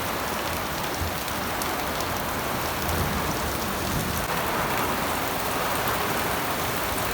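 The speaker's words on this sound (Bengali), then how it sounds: "তোরে বৃষ্টি নামে গেছে" Heavy rain pours steadily onto surfaces outdoors, a dense, even hiss of countless drops that stays loud and unbroken from start to finish.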